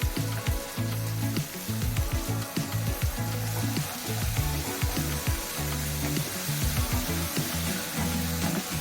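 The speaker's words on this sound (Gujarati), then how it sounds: "હવે આપણે મેથીની ભાજી એમાં મિક્સ કરી દીધી છે." Fenugreek leaves frying with garlic in a pan for a methi sabzi give off a steady, loud sizzle, broken by repeated scraping and stirring strokes throughout.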